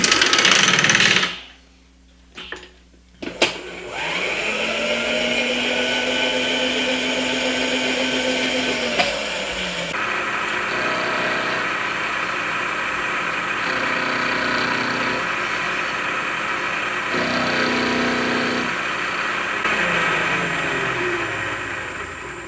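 A milling machine fitted with a small 3/8 cutter machines a steel tong die for a blacksmith's power hammer, giving a continuous close mechanical whir with a rising, settling tone and subtle shifts in load over about twenty seconds.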